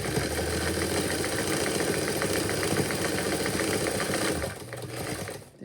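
A sewing machine stitches elastic along the edge of fabric with a steady, fast mechanical whir and rapid needle clatter. The sound is close and runs continuously, then eases off near the end.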